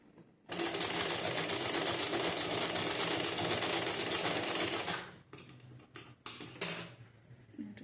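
A sewing machine runs in one steady, loud burst of rapid stitching on a blouse back piece, then stops and gives several short start-stop runs near the end.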